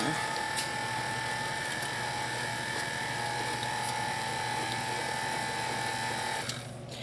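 An electric mixer beats Trinidadian bellyfull cake batter with mixed peel and Angostura bitters. A close, steady motor buzz with a high whine runs without a break and cuts out just before the end.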